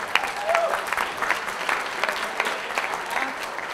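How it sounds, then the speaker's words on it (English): An audience applauds at a youth sports volunteers recognition breakfast, with sustained, even clapping from a full room. "Another round of applause"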